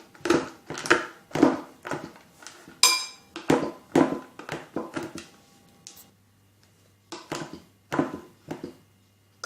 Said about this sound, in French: Je prends mes autres 50 g de chocolat, je les mets dans un plan de travail et je vais venir les hacher grossièrement.